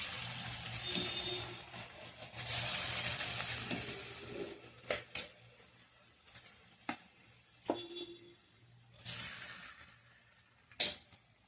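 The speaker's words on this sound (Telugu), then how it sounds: "ఆయిల్ బాగా హీట్ అయింది ఇప్పుడు మనం కొంచెం కొంచెంగా వేసుకుందాం" Cabbage pakoda batter hisses and sizzles as small portions are dropped into hot oil, with a steady frying crackle and occasional sharp clinks and taps from a utensil, close by and loud.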